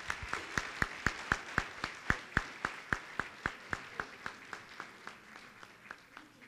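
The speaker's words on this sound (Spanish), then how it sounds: "Y les pido a todos ustedes un fuerte aplauso para nuestros expositores." An audience at a national education forum claps in unison for the speakers, a crisp, evenly spaced series of about twenty claps that gradually fades toward the end, heard alone without talk.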